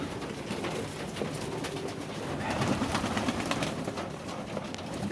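Pigeons feeding outdoors in -10°C frost coo softly amid a dense, continuous wash of rustling and pecking noise, fairly close and steady throughout.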